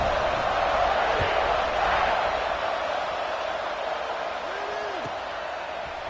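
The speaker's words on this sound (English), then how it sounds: "They're set to kick it off, and this crowd now ready to get behind them." A football stadium crowd roars and murmurs as a steady, dense wash of noise ahead of a kickoff, heard from a distance throughout.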